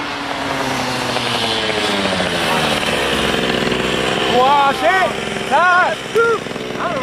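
A loud, steady drone from a newly built, freshly started moped engine runs throughout, with people talking and exclaiming over it near the end.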